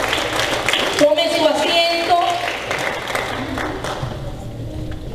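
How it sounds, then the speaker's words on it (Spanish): Church congregation applauding during a sermon, clapping heard under a speaking voice and fading toward the end. "Dale un aplauso al Señor."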